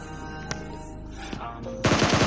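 Automatic gunfire in the mobile shooter PUBG Mobile Lite: a sustained rapid burst of loud, close shots in the final half second, after a couple of faint isolated pops over a steady game background.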